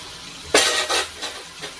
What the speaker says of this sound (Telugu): ఆయిల్ హీట్ ఎక్కకైతే ఒక్కొక్కటిగా ఇందులో వేసుకోవాలి.